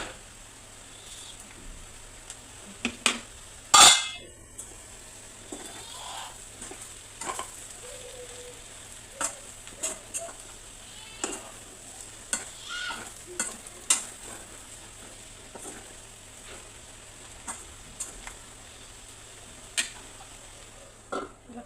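Potato fry with coconut is being stir-fried with coriander leaves and kasuri methi, giving a quiet background sizzle broken by intermittent spatula scrapes and stirs, with one sharp louder clatter near the start.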